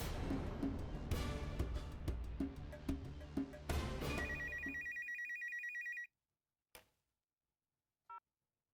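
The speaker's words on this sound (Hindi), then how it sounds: "अच्छा चलो, सुबोध जी को फोन लगाओ, सुबोध पाटिल जी को।" Telephone ringing after a call is placed in a Hindi TV drama office scene: loud repeated ring bursts over dramatic background music, then a steady electronic ring tone that cuts off, followed by two short clicks.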